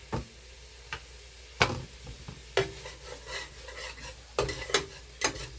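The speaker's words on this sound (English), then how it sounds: "that's pretty well browned, so we'll take and throw our little sausages in there." Sausages brown faintly sizzling in a pan while a utensil scrapes and clinks now and then, irregular stirring sounds over a soft frying hiss.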